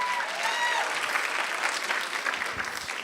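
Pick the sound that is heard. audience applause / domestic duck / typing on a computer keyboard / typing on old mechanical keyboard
audience applause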